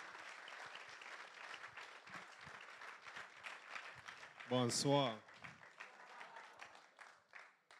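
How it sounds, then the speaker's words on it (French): Audience applause greets Emmanuel as he takes the stage, swelling briefly in a short burst of clapping under a speaker's greeting before fading back into room noise. "So put our hands together for Emmanuel as he comes."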